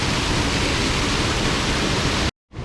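The waterfall at the Sam Creek swimming hole near Cape York gives off a constant, loud rushing hiss that cuts out abruptly near the end, then resumes.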